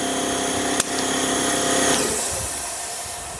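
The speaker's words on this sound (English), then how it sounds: "So there's your air compressor." A FIAC WallAir wall-mounted air compressor runs with a steady, close, droning motor hum and rattle, with one sharp click near the start and a slight shift in tone partway through.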